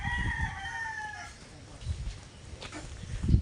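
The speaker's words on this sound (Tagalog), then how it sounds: "Ayan mga manok." Chickens cluck and a rooster crows faintly in the distance, with scattered nearby thumps and rustling of an outdoor dragon fruit farm.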